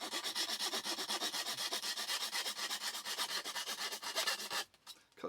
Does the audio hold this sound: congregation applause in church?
no